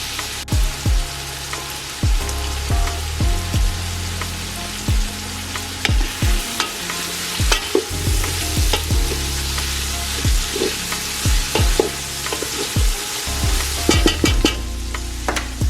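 Shrimp and smoked sausage sizzle loudly and steadily in a hot pan, with a continuous frying crackle and occasional sharper pops, close up with no talking.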